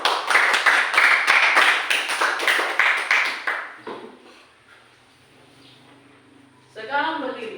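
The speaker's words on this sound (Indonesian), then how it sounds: "Tepuk tangan dulu." A group of students clapping in a classroom, a dense burst of quick hand claps for several seconds that then stops, leaving near silence before a voice speaks at the end.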